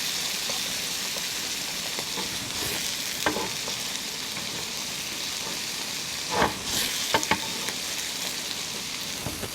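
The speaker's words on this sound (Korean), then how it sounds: "자, 새우가 익을 때까지 살짝 볶아줍니다" Shrimp stir-fried in a pan for a spicy shrimp ramen dish, giving a steady close sizzle and hiss with a few sharper clatters of stirring near the middle and end; no talking.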